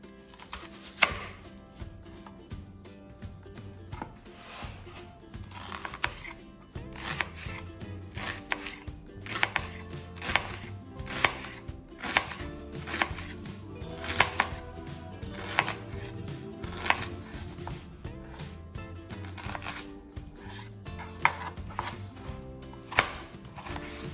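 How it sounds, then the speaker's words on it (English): A knife chops an onion on a cutting board for a pork and sauerkraut goulash, a long run of sharp, close, regular knocks with brief pauses in between. "First, I'm gonna cut up the onion and saute it on the olive oil."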